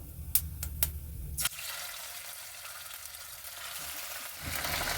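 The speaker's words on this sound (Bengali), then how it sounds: "চিকেনটা আমার ভাজা হয়ে গেছে এটা একটু ভেজে নিতে হয়" Chicken pieces sizzle in hot oil tempered with cumin seeds, preceded by a few sharp clicks, then a steady, loud frying hiss that continues to the end.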